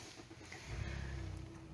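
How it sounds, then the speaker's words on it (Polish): A Mazda CX-5 SkyDREAM with the 2.5 Skyactiv-G 194 hp engine, 4x4 and 6-speed automatic starts up, a short crank followed by a deep, steady idle rumble heard from inside the car. "Odpalimy sobie na chwilę samochód."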